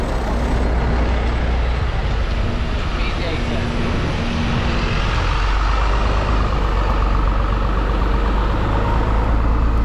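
A rubbish truck rumbles loudly on a busy Brixton street while a cyclist rides past, its heavy engine drone joined by intermittent beeping and traffic noise, with a voice talking over it.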